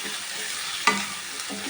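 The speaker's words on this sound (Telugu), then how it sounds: "దీన్ని మీడియం ఫ్లేమ్లో ఫ్రై చేసుకోవాలి" Ridge gourd fries on a medium flame in a soft, even sizzle, with one brief clink of a utensil partway through.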